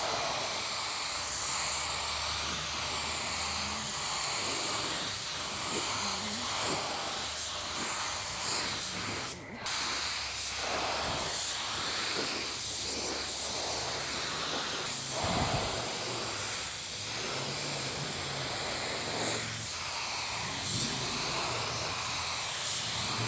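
A budget spray gun lays clear coat (Finish 1 FC710) onto a car's spot-panel repair on a tri-stage pearl Nissan Altima, giving a steady, close hiss of atomized spray that runs continuously with brief dips and small shifts in pressure.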